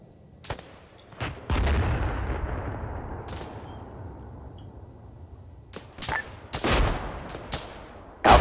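An aircraft gun run in an Arma 3 desert battle produces sharp, loud cracks and a long rumbling artillery-like blast that slowly fades, followed by scattered, irregular gunshots, some close and some distant, with faint radio chatter.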